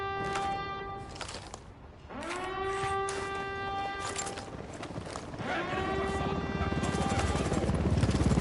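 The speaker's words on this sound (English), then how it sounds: "Hit the dirt, helicopter." A helicopter in the shooter game Ghost Recon Wildlands gives a steady rotor chop, rising toward the end under rising and falling siren-like tones.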